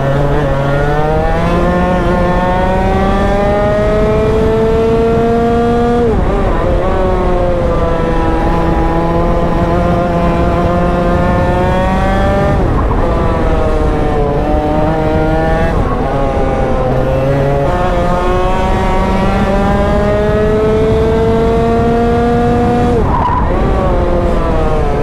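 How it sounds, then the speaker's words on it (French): A kart engine being warmed up, revving loudly and steadily in repeated rising and falling bursts for the whole stretch, with no talk over it. "Je vais lui faire chauffer le kart."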